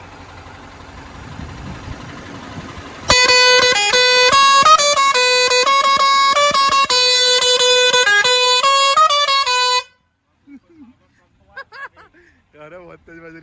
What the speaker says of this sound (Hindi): बहुत जबरदस्त हॉर्न है वो तो, जब तो पब्लिक रास्ता छोड़ती है।